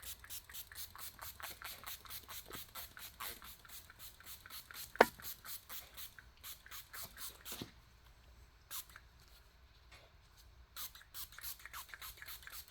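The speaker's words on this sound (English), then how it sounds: "spray it really good." Rapid bursts of a spray bottle hissing in quick repeated pumps while restoring headlights, pausing briefly, then spraying again, with soft handling sounds between.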